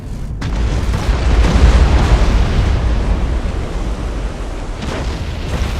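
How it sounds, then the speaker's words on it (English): A starship exploding in the space battle game Battlefleet Gothic Armada 2, a loud, sustained rumbling blast that holds steady for several seconds with deep low-end roar and no talk. "Imperial ship destroyed."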